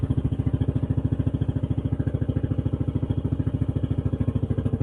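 A small boat motor runs steadily at sea, a close, even low-pitched chugging with a fast regular pulse throughout and no voices.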